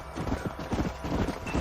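Horse hooves clip-clop at a steady walking rhythm in the Western video game Red Dead Redemption, moderately close, with a low game soundscape underneath.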